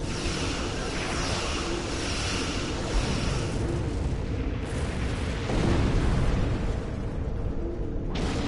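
Starship weapons fire and explosions in Star Trek Online make a continuous, loud booming rumble that swells around the middle and cuts off sharply near the end.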